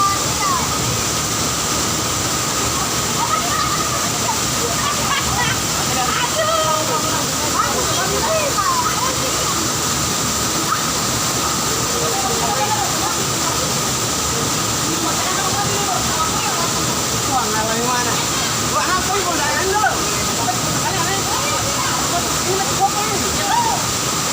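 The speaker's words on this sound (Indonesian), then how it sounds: "Air terjun" Continuous rushing water roars throughout, with people talking and calling over the steady wash of the Hulung Hunut waterfall near Ambon, Indonesia.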